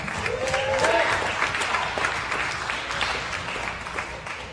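Audience applause rings out at a Florida kettlebell competition after a lifter's long-cycle set, a steady wash of clapping with cheering voices and whistles mixed in for the whole stretch.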